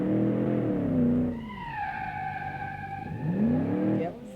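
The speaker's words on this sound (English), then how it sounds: "This Jeep looks like a soccer mom, basically SUV, with an automatic gearbox" A Jeep SUV with an automatic gearbox drives in BeamNG, its engine note rising and falling as it shifts through gears, a steady near drone with tones climbing, dropping and climbing again, no voices.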